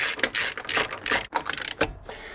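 A ratchet spins off wheel bolts on a Ferrari 458, with quick bursts of clicking pawl teeth in uneven repeated strokes, close and clear with short pauses between turns.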